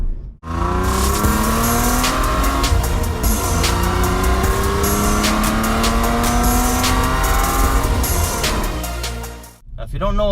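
A 2012 Hyundai Veloster non-turbo with a 6-speed manual runs loud and close, its engine note rising and falling through revs with tire noise, while a voice talks over it.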